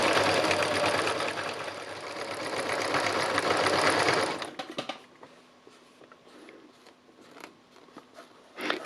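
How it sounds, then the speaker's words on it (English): A sewing machine stitches steadily for about four and a half seconds, a loud, even mechanical whir, then halts, leaving only faint clicks and handling noises. "although I'm using a sewing machine to do this, as you can see, the process itself is quite slow"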